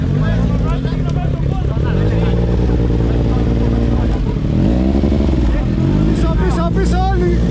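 Several motorcycles idle and rev loudly in a busy Athens street, engines rumbling steadily up close, with people talking and calling out over the engine noise.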